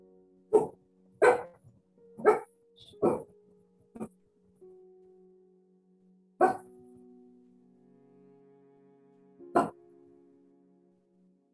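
A dog barks in the background, loud single barks in an irregular series: four quick ones, a pause, then two more spaced far apart, over a faint steady hum.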